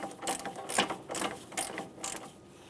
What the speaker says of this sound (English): We're going to torque it down to 58 foot-pounds.